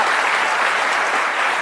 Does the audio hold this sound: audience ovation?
yes